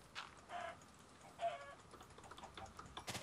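Chickens clucking in Minecraft, a few faint short clucks spaced across a quiet game scene, mixed with light keyboard tapping in the background.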